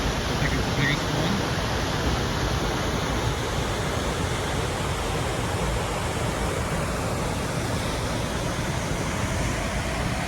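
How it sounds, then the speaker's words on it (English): A large waterfall, found unexpectedly during a trip, roars as a steady, dense broadband rush of falling water close by, continuous and even for the whole stretch with no voices over it. "You know how much I like waterfalls."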